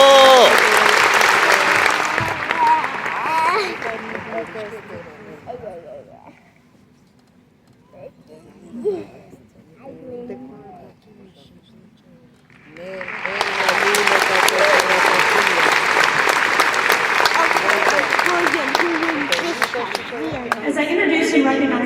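Loud applause from a crowd at a high school graduation ceremony swells, fades to near quiet with scattered cheers and voices, then surges back into sustained heavy clapping.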